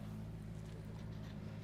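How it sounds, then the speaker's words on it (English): A blown gas rear-engined modified roadster with a motorcycle engine at the Bonneville World Finals salt flats, a steady low droning engine note with strong harmonics, held at constant loudness throughout. "That is a blown gas rear modified roadster sporting a motorcycle engine, it sounds like"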